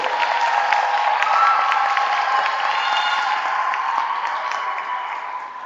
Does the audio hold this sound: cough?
no